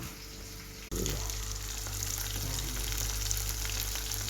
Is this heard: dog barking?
no